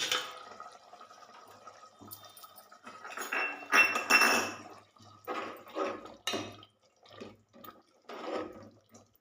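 Thick tomato pachadi simmers in a pan, giving soft, irregular bubbling plops and wet splutters with occasional light clinks, fairly quiet and close, with no talking.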